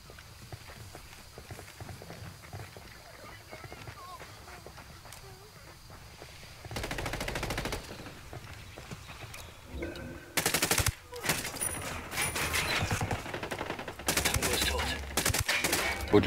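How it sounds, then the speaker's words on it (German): Gunfire and grenade blasts from enemies shooting out of a building in Ghost Recon Wildlands, arriving as loud bursts of rapid shots and impacts after a quieter stretch of ambient sound, with voices talking over the action. "Oh, die schießen aus dem Gebäude raus."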